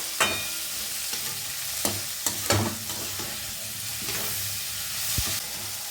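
Onion and capsicum fry in a pan with a steady close sizzle, broken by several sharp stirring scrapes and clatters of the spatula, while preparing a spicy chicken biryani.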